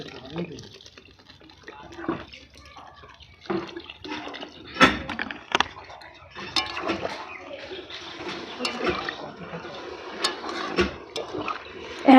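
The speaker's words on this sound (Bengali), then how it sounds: "এবারে আমি জল ঢেলে দেবো।" Water poured from a steel mug into rohu fish curry with potato and eggplant in a wok splashes and bubbles loudly, with clinks and clatters, under a voice talking throughout.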